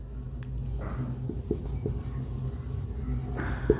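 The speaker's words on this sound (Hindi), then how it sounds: "अब यहाँ पे लिखता हूँ" Marker or chalk strokes on a board during a physics lesson on circular motion, a soft steady scratching with small taps, close and alone with no talk.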